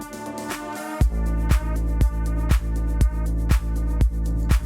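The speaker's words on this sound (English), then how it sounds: "This is a bass line, one main melody loop, and some percussions." A produced beat with a steady, full bass line, a looping main melody and crisp percussion hits on a regular pulse, kicking in after a brief filtered intro and running loud and continuous without any voices.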